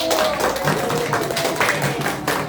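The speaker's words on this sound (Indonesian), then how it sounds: "Kita beri tepuk tangan dulu dong sama kelompok 1" Classroom audience of schoolchildren clapping for a presentation group, a short burst of scattered, fairly close hand claps that stays moderately loud and then tapers slightly.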